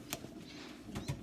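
Racing pigeons in a stock loft give a couple of low coos, with a brief rustle between them, at close range against a steady indoor hum.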